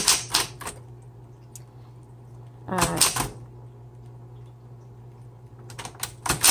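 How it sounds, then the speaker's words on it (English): Keys clatter in bursts on a 1960s Smith Corona Coronet Electric 12 electric typewriter, with a steady motor hum running underneath between the close, crisp flurries of strikes. "the typewriter is super easy to type on"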